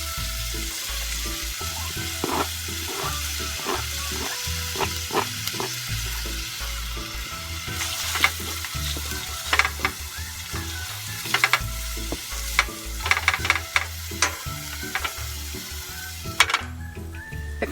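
Onion fries in a pan on a stove inside a van, with a steady close sizzle broken by repeated scraping and clattering stirs of the utensil against the pan.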